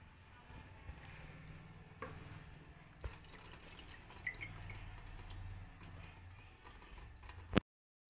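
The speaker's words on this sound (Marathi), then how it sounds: "तर आता आपण हा चीक गाळून घ्यायचा आहे." Wheat starch liquid for traditional kurdai being strained by hand gives a steady, close trickle and drip of liquid with small splashes, continuing without speech until it stops abruptly near the end.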